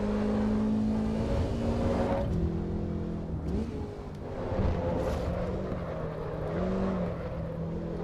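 A racing car engine in the video game Assetto Corsa EVO drones steadily with rising and falling revs and gear shifts, continuous and fairly loud, sounding synthetic rather than recorded.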